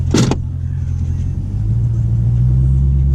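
A manual Dodge Challenger's engine rumbles with a low, steady drone while driving, rising slightly in pitch as it pulls, after a short burst of sound at the start.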